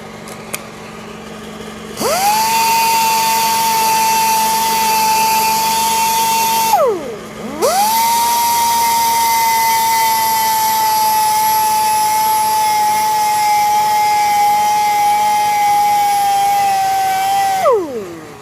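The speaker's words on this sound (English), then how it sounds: "We'll go ahead and sand that up. I'm going to start with a 320 grit disc." A small power sander with a 320 grit disc works curb rash on a Kia K4 wheel, running in two long steady whirring bursts with a brief stop between them, loud and close.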